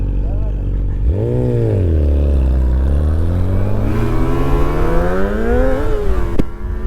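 A Yamaha R25 sport motorcycle revs hard, its engine pitch climbing and falling in repeated surges over several seconds, loud and close, as if heard from the rider's seat.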